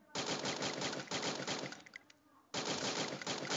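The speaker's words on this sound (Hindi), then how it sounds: "इसे बोलते हैं वन टैप शॉट।" Gunfire in a shooting video game, loud rapid bursts of shots with a brief pause in the middle before the firing resumes.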